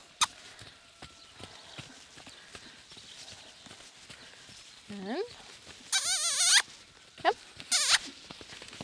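A horse canters on the ground during a cinch training session, its hoofbeats thudding in a steady rhythm throughout, with shrill, wavering animal cries breaking in near the end.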